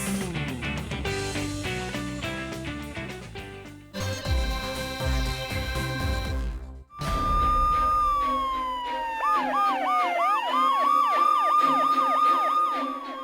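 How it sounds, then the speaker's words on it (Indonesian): A fire engine siren wails up and down repeatedly, loud and close, following a stretch of busy music with no talking. "ada sirine pemadam kebakaran nih"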